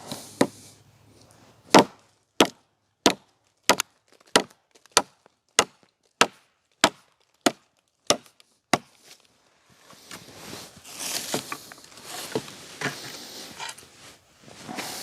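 Nessmuk axe chopping frozen wood outdoors: about a dozen sharp, evenly spaced blows ring out close by, followed by rustling, crunchy handling noise as the split pieces come apart.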